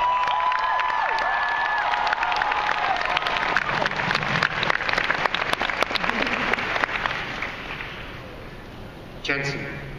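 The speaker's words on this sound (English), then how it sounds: "so they deserve a big round of applause." Audience applause and cheering in a large hall at a San Diego Comic Con 2013 Supernatural panel, a dense sustained clapping that fades toward the end as a voice returns.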